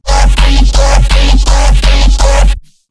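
A heavy Serum-synthesized neuro bass riff pulses in a steady rhythm, with growling, wobbling tones over a deep sub, loud and alone before stopping abruptly.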